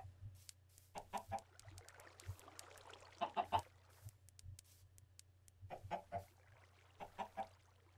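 Minecraft chickens cluck in short bursts of two or three calls, repeated several times over a low steady background hum, no voices.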